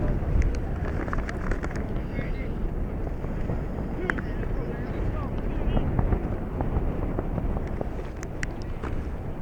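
Wind buffets an outdoor microphone at a high school baseball game, a constant loud rumbling roar with gusty swells that covers the whole stretch.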